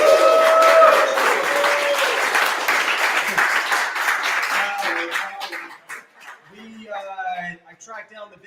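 A live podcast audience applauding, dense clapping and cheering that holds for several seconds and then thins out into scattered claps as a voice starts talking over the tail.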